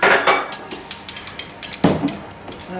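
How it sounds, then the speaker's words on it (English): Eggs whisked in a bowl for chocolate beetroot brownies, a quick series of sharp clinks from the whisk hitting the bowl in an uneven rhythm, close and clear with no talk. "so you can mix that and then, Whisk them"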